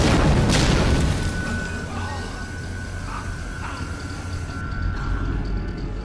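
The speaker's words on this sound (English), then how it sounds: "shoot an explosive barrel to take out a few guards at once" An explosive barrel is shot and blows up in the World War II stealth game Velvet Assassin, giving a loud booming blast that fades into a rumbling, noisy tail.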